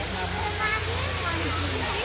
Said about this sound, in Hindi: वो पीछे देखिए झरना है